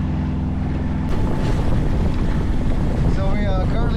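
Steady wind buffeting and rushing water around a boat crossing a choppy strait between Anacortes and Fossil Bay, with a low engine drone, loud and close throughout.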